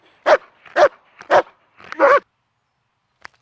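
An excited dog barking at an all-breed dog sport trial, four loud close barks in a quick, uneven series, then a short faint yip.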